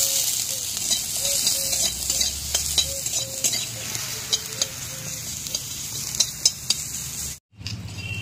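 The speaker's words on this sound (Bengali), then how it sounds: "কেটে রাখা রসুন আর পেঁয়াজটা ভেজে নেব।" Chopped garlic and onion fry steadily in hot oil in a pan for a Bengali leaf-paste dish, a continuous close sizzle with the occasional stir and clink of a spoon against the pan.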